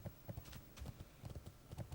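Horse hooves clip-clop at a steady trotting rhythm in World of Warcraft, with several hoofbeats repeating evenly and moderately close over a soft background.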